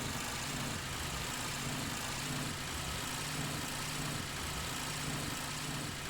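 A vehicle engine in a video game gives off a steady, faint low rumble with a constant vibrating drone that runs unbroken and alone.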